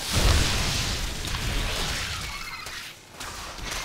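Detonations strike a mineral line in the strategy game StarCraft 2, a loud rumbling blast at the start followed by continuous crackling, booming noise that briefly dips before swelling again.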